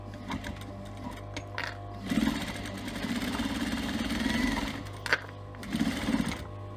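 A sewing machine runs in bursts while stitching a fabric humbug purse, a steady mechanical whir that rises loudly around two seconds, holds, and returns briefly near the end, with no talking.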